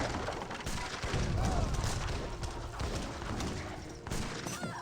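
Musket and cannon fire from an Age of Empires 3 battle between Russian and Maltese armies, a continuous barrage of overlapping shots and booms, dense and steady throughout.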